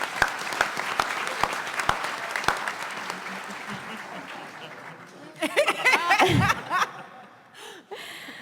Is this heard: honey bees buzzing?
no